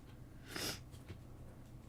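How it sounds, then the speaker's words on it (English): A single short nasal sniffle, faint and close, heard alone against a quiet room hum during a paper-crafting session. "sorry for the sniffling"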